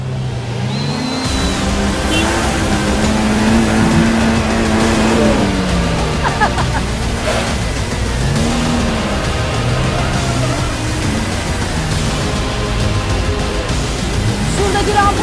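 A small Suzuki Jimny off-road car engine revs loudly and close on an off-road course, a continuous rising and falling engine drone throughout.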